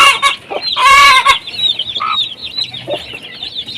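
Backyard hens clucking loudly and close, a run of choppy calls with one drawn-out squawk, then quieter intermittent clucks and chirps trailing off.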